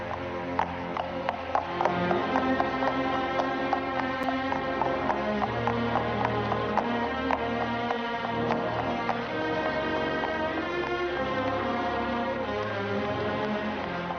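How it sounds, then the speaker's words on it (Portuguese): Horse hooves clip-clop in a steady, even rhythm on the stone ground of the temple in Jerusalem, the sound of Pompey's horse, set within dense music. "Aqui, neste chão mais sagrado de toda Jerusalém, o cavalo de Pompei abre caminho."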